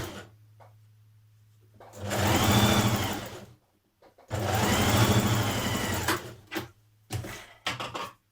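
A sewing machine whirs in two long, loud bursts stitching a dress side seam, with quieter clicks and handling noises in the pauses between runs.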